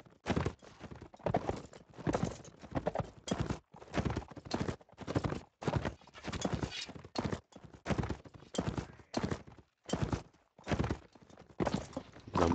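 Horse hooves clip-clop in a video game during a match, a steady run of hollow knocks repeating in an even rhythm, loud and close with brief gaps between bursts.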